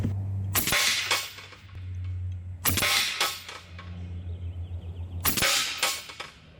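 Three sharp shots from an Umarex Gauntlet 2 SL30 side-lever big-bore PCP air rifle firing 50.2 grain FX pellets at 50 yards, each a loud crack followed by a short ringing decay, spaced a couple of seconds apart over a low background hum.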